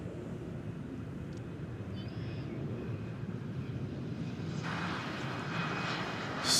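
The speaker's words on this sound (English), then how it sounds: "So this 9-year-old Dreamliner in the air for 6 hours and 42 minutes from Honolulu." A Boeing 787 Dreamliner at DFW Airport gives a steady, distant jet roar that swells slightly louder toward the end, with no voices over it.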